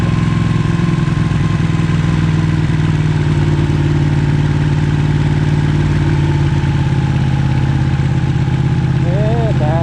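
A motorcycle engine idles steadily and loudly during a ride-out in Wales, a low rumbling drone with faint clatter and some background noise.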